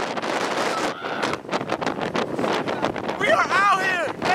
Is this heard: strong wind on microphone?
yes